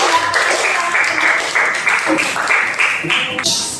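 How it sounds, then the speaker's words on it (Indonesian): A classroom of students claps for a classmate who just sang, a short burst of close, uneven clapping mixed with voices and chatter, ending in higher-pitched sounds near the close. "Tepuk tangan untuk"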